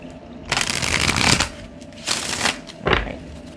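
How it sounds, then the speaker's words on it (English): Tarot cards being shuffled by hand, three separate riffling bursts, close and fairly loud, with short pauses between them and no talk. "one more shuffle."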